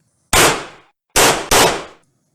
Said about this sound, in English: It's too early to start celebrating by shooting holes in the sky.